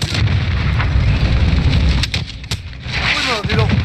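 Rocket explosions in the Call of Duty video game form a heavy, sustained rumble of blasts and booms with sharp cracks, loud and dense throughout, while a voice speaks briefly near the end.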